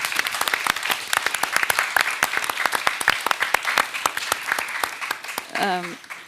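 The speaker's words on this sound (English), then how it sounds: "An applause for all of you." An audience gives applause for art students exhibiting their work, a lively burst of close, uneven clapping that tapers off as a voice begins at the end.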